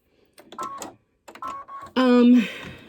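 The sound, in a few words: embroidery machine stitching mouse whiskers in black thread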